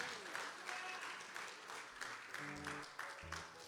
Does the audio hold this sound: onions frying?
no